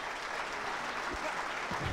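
Steady audience applause fills the whole stretch, a dense, even clatter of many hands at moderate distance with a few faint voices mixed in.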